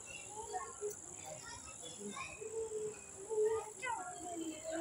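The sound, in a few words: insects chirping at night, likely crickets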